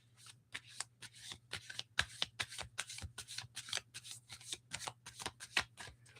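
A tarot deck is riffled and shuffled in a quiet room, giving a steady run of crisp, rapid card flutters and soft slaps. The rhythm is quick and uneven, with no talk over it and a low steady hum underneath.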